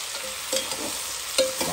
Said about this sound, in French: Je mélange les oignons avec ça dans le lapin et le